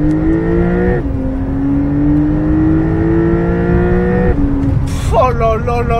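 A Porsche 911 (992) Carrera 4S with its 450 hp engine pulls away hard once the brake is released. The loud, close engine note climbs steadily, drops on a gear change and rises again, with voices talking over it.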